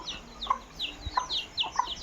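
Free-range chickens clucking outdoors, several short, sharp calls scattered across the moment at moderate distance, with a quiet background and a single low thump midway.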